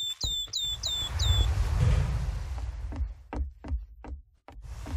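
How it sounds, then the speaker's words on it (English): Bird chirping inside the video game Garry's Mod: a quick run of five bright, repeated chirps near the start, followed by low rumbling game ambience and several sharp knocks. "Wait, that was a bird."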